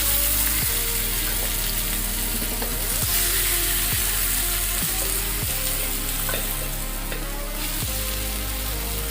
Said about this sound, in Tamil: சிம்லேயே வச்சு ஃப்ரை பண்ணுங்கள்